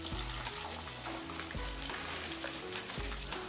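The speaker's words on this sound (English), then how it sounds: "Let the grease get piping hot before you throw your fish in, and let it get to frying" Tilapia fillets fry in piping-hot grease, giving a steady crackling sizzle. A few low thumps and clinks cut in at intervals, and no one speaks.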